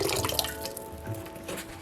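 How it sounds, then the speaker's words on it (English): A splash of white vinegar poured into a bowl of water for soaking cabbage, a quiet watery pour with a few dripping splashes at the start that fade into soft trickling. "A splash of vinegar."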